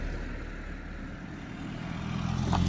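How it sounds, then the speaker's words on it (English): Diesel-engined vehicles pass close by outside a parked 2013 Vauxhall Ampera plug-in hybrid, a steady low rumble that builds louder toward the end as one approaches. "clatter of the diesel engines going past me."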